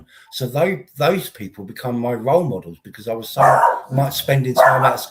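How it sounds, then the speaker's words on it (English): A dog barks intermittently in the background of an indoor room, partly masked by a person speaking steadily and close up over it. "Excuse the dog, sorry."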